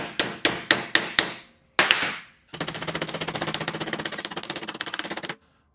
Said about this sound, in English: Now we have to hammer this flange.